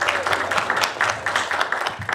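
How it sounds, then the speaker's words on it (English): Steady, fairly loud clapping from a film festival audience before a judges' panel, with overlapping claps that continue without a break. "Yeah, a round of applause."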